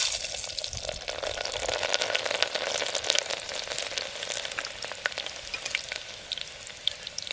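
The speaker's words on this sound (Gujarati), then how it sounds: "તેલ ગરમ થઈ ગયું છે આપણે લહણની કળીઓ નાખી દઈએ" Garlic cloves hit hot oil in a village kitchen, raising a steady, dense sizzle with fine spitting crackles that stays fairly close and even, with no talk.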